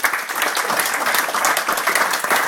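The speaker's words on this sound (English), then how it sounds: "I didn't expect such a round of applause" An audience at an Eid party in Rotherham gives a round of applause, a dense steady clapping that carries through the whole stretch, with a faint murmur of crowd underneath.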